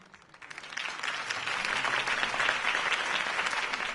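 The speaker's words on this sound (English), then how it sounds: "If only Mr. Wayne, my campaign's largest backer, could have heard that applause" A video game crowd bursts into applause that swells quickly and holds as a dense, sustained wash of clapping and cheering.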